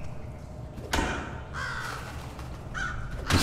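A crow in the stealth video game Thief caws loudly several times in spaced, harsh bursts over a quiet ambient background.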